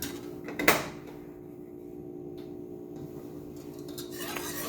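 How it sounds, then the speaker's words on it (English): A utensil scrapes and clinks against a pot while sweetened condensed milk is stirred over medium-high heat, with one sharp knock early on and then quiet, intermittent scraping. "And I'm gonna keep stirring it."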